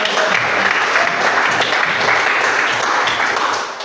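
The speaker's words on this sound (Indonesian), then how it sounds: "terima kasih berikan tepuk tangan" Audience applause following a talk at a teacher-training session on building self-confidence, a steady, dense wash of many hands clapping at close range, holding level throughout before easing slightly at the end.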